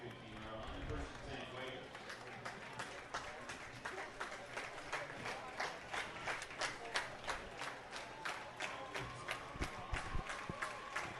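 Football crowd at a high school game applauding as an injured player limps off the field with help, steady clapping with scattered sharp claps rising toward the end, a commentator talking over it throughout.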